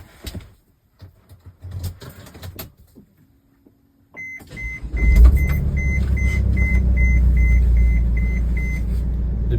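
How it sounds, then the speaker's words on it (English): Repeated evenly spaced electronic beeps from a van's ignition warning for an unfastened seatbelt, over a steady low engine-like hum inside the vehicle. "beeping you're hearing is my my van's ignition warning because I don't have my seatbelt on"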